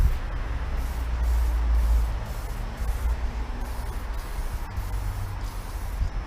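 A light first coat of spray paint going onto a truck's suspension lift kit makes a continuous airy hiss of spraying, with a low rumble underneath and short interruptions as the spray pauses.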